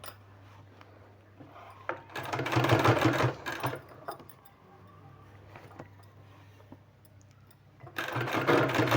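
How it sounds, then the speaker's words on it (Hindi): A sewing machine stitches a sleeve in short bursts of rapid, loud mechanical whirring, about two seconds each, separated by a quieter low steady hum, close up and with no talk. "अब इसमें हमको इस तरह से बैठाना है, बीच में इस तरह से सिलाई लगाना है।"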